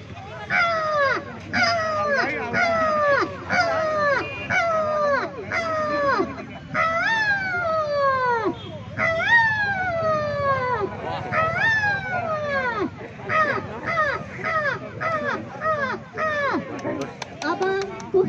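A human voice imitating a crow, with harsh, falling caw-caw calls repeated in quick bursts for about eighteen seconds, loud and close, with the calls thinning toward the end.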